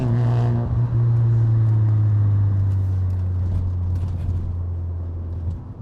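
Mazda RX-7 FD sports car with a rotary engine revving near the listener, a loud steady drone that holds for several seconds, then slowly eases off toward the end.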